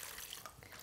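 Tap water running steadily over Ketso workshop components being washed, a brief faint continuous splashing hiss.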